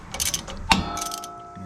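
A hand ratchet tightening a brake caliper press against a rotor on a 2021 Ford Ranger 4x4 during front brake replacement, a few quick metallic clicks with one sharp clack near the middle, close up and without talk.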